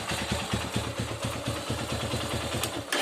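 A Zongshen ZS200 motorcycle engine idles at close range, a quiet, rapid and even putter of firing pulses with light mechanical clatter, steady throughout.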